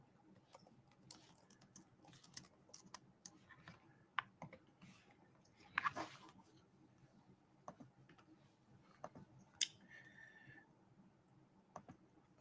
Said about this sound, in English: if y'all hear that, that's me typing.